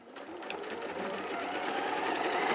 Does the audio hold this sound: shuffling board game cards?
no